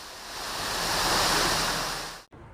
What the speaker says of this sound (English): Widespread flooding in the hospital vicinity turned staircases into cascading waterfalls.